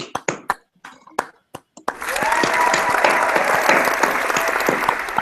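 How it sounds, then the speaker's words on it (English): Studio audience on a game show: a few scattered early claps, then full applause swells in and holds, loud and dense until the end. "Let's clap for him."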